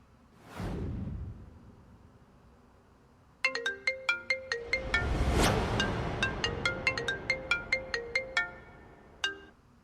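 A telephone rings while a call is placed, giving a rapid repeating electronic ringtone pattern that follows a soft whoosh. The ringing carries on for several seconds, moderately loud, with no one talking.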